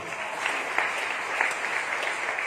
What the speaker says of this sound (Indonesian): Kasih tepuk tangan untuk firman Tuhan.